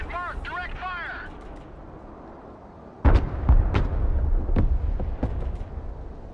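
Artillery direct fire in the Broken Arrow war game: a short series of sharp booming shots with rumbling tails, fairly close, following a brief synthetic radio-style voice line.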